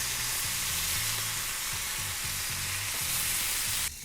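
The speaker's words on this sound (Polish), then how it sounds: "dosyć krótko smażę je i zaraz po przewróceniu układam na nie mozzarellę" Burgers sizzle steadily in a hot pan, a continuous frying hiss close up, with a few soft scraping stirs underneath, mozzarella laid on top after flipping.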